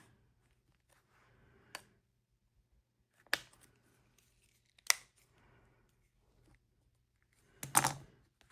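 Scissors snipping gray fabric during quilting, a few isolated crisp cuts spaced out in near silence, close and clear.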